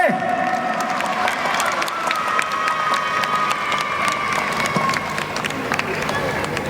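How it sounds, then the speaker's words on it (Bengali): An audience at a stage event at the Indian Museum applauds loudly in a sustained, dense wash of clapping with some crowd noise mixed in, holding steady for the whole stretch. "জোরে হাততালি"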